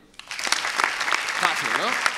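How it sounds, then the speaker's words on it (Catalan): Audience applause fills a business awards gala, dense clapping throughout with a voice speaking over it near the end. "Fora aplaudiment."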